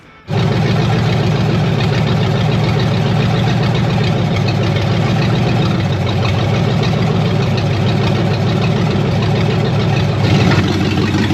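Car engine running on open headers, suddenly barking to life and holding a loud, raspy, steady idle with a rough lumpy pulse throughout, close up with no voices.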